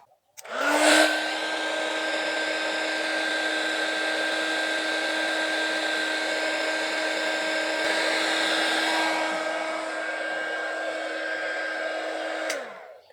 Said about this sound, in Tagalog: Pasuin natin mga bro ng blower.